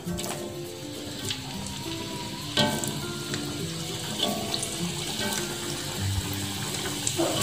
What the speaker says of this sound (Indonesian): Kemudian kita goreng ya.